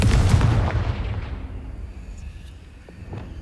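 A Confringo spell blast in the video game Hogwarts Legacy bursts with a loud, booming impact up front, then rumbles and fades away as a few faint clicks follow.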